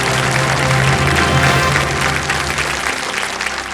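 Studio audience applauds on the KBC quiz show, dense loud clapping from a crowd that holds steady and then eases slightly toward the end.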